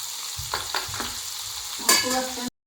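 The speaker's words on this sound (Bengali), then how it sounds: "ভাজা চলছে এখন।" Mung bean pithe dumplings fry in hot oil at a moderate flame, a continuous close sizzle broken by several short stirring scrapes and a brief louder burst of crackle near the end.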